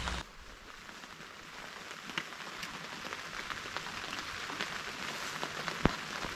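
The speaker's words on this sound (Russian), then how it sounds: "дождь еще идет" Steady spring rain pattering on a fishing tent during a lakeside fishing trip, a continuous dense hiss with scattered louder drops tapping close by, no voices.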